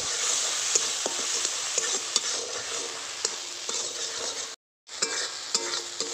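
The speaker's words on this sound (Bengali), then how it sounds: "এবার আমি কাঁকড়ার ঘিলুটা ভেজে নেব।" Crab roe frying in a hot pan: a steady, close sizzle and crackle with occasional stirring clicks of a spatula, briefly cut by a silent gap near the end before the frying resumes.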